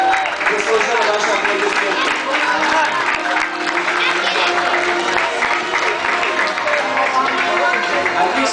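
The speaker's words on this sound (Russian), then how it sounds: "аплодисменты" Spectators at a polo match in Russia applaud steadily, a dense, continuous wash of clapping from a crowd that holds at an even level throughout.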